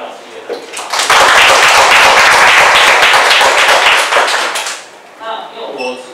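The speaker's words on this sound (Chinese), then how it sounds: "那我们大家先给他们两位老师一个掌声" A burst of hearty applause from a seminar audience greeting two invited speakers, loud and dense for several seconds before tapering off as a speaker's voice returns.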